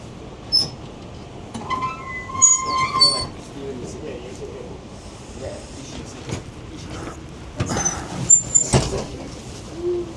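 A passenger train rolls along the rails with a low steady rumble, broken by squealing wheels and sliding doors, while people talk nearby.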